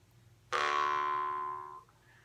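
A single twang from a Jew's harp, its reed plucked once, ringing loud and close with a bright metallic buzz that slowly fades over about a second and a half.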